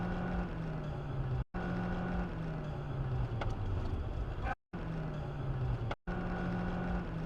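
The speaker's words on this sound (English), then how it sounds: "you'll see that I let off the gas. You can hear that" A car engine drones steadily and its pitch falls as the driver lifts off the throttle while the car slips, with the sound cut by several brief gaps.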